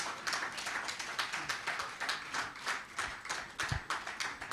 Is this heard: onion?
no